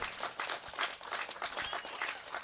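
Audience in a concert venue applauding a performer, a steady burst of many hands clapping at close range for a couple of seconds.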